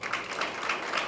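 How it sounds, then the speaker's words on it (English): Audience applause at a university guest lecture on accounting and finance in Ghana: a brief, steady wash of many hands clapping in a hall, moderately faint and with no speech over it. "Let's give a round of applause."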